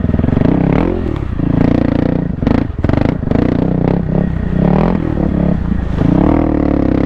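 A 2024 Kawasaki KLX300R dirt bike climbs over logs, its close, loud single-cylinder engine rising and dropping with throttle blips, mixed with clattering and scraping from the chassis.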